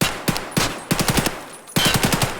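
AKU rifle in Escape from Tarkov fires in close, loud bursts: a couple of single cracks, then a quick string of about five rapid shots, a short pause, and another fast burst, with no voices.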